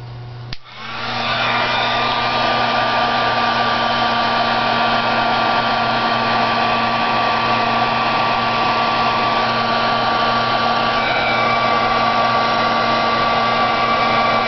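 A heat tool for embossing blows hot air onto a card, switching on with a click and then roaring as a loud, steady, close whoosh with no voices.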